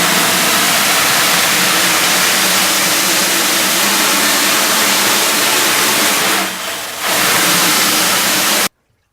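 A print screen is rinsed with low-pressure water after being agitated with a screen wash, giving a loud, steady hiss of spraying water that dips briefly near the end and then stops.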